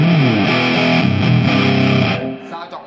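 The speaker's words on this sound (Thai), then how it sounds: "ตอนนี้ผมจะลองเซตฝั่งนี้เป็นเสียงออกแตกแหลมๆนะครับก็คือเปิดโทนเยอะ" Electric guitar played through a Shark Bangkok distortion pedal set for a bright, treble-heavy crunch, sustained chords ringing loudly and evenly before fading out at the end.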